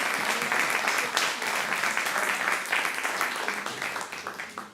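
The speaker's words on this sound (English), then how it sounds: "Could we have a final round of applause for Emma?" Audience applause for a presenter named Emma, a dense, steady wash of many hands clapping close and loud throughout, gradually thinning and fading toward the end.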